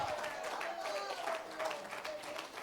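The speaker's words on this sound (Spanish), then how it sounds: "Dale fuerte aplauso." A congregation at a Spanish-language church service clapping steadily, with a bright continuous patter of applause and voices mixed in beneath.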